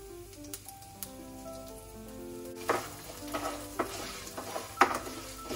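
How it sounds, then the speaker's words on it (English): Curry leaves and ginger sauteing in a hot pan with red chili, a soft steady sizzle with occasional crackling pops and stirring scrapes growing busier in the second half. "and curry leaves. Saute this nicely. Then goes the ginger."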